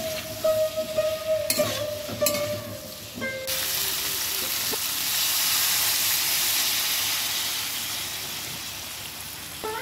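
Vegetables with Katoa drumstick stalks fry with turmeric and chili powder, a steady loud sizzle and hiss that begins with a few clattering stirs and scrapes, then settles into continuous close frying.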